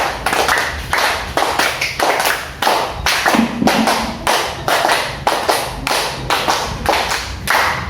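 A group of children clap a rhythmic pattern in unison during a group counseling session, loud sharp claps in repeated bursts of several beats with short pauses between rounds.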